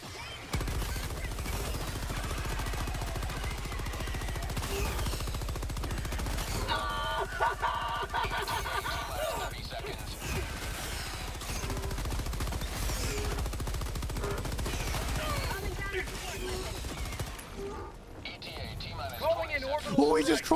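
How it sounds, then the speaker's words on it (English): Machine gun fire in Helldivers II, sustained rattling bursts of rapid shots filling the clip alongside other gunfire and game noise, with a person talking over the action. "Give me my machine gun."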